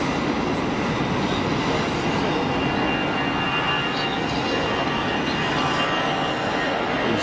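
A Luton-bound airliner rolls down the runway for takeoff at Geneva Airport, making a loud, continuous broadband engine roar that stays steady throughout.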